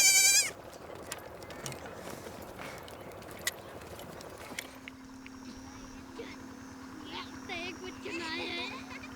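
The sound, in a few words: goats and kids bleating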